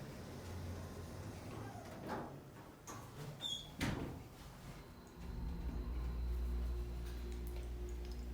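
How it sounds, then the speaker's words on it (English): An Otis hydraulic elevator's loud door operator at a college fitness center moves the doors with a few knocks and thuds, followed by a steady low motor hum. "Has a loud door operator."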